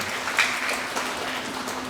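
An audience at a ceremony opening a Hindu priest ordination and training event applauds the organizing committee chairman, a short continuous wash of clapping at moderate level.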